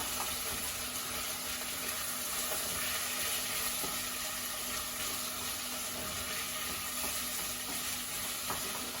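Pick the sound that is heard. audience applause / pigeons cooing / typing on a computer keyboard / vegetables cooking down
vegetables cooking down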